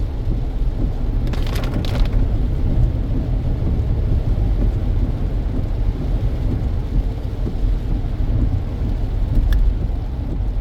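Steady rain falls during the rainy season in Barbados, heard from inside a moving car on a road in Welches, St. Thomas, as a dense continuous wash mixed with low road and engine rumble and a few faint clicks.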